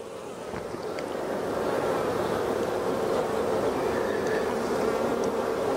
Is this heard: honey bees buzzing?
yes